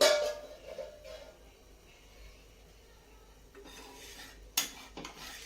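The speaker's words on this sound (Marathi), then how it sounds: "आता मी झाकण काढून घेत आहे" A lid lifted off a dosa pan on the stove: a metallic clink at the start, then quiet faint sizzling, followed by a sharp clatter near the end.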